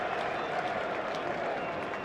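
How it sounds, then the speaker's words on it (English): A standing ovation from the Edgbaston cricket crowd for a 300 partnership: dense, sustained applause and clapping that holds level throughout, broad and enveloping, with a faint murmur of voices beneath. "There's a standing ovation from the Edgbaston crowd for a partnership of 300."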